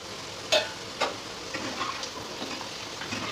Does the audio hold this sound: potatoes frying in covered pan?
yes